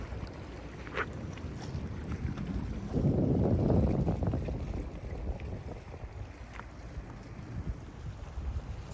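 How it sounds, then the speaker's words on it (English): Wind buffets the microphone on a cruise ship deck near Whittier, Alaska, a steady low rush with a stronger gust a few seconds in, under faint background noise. "A little bit of a wind."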